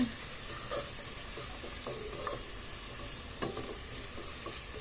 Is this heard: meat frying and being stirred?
yes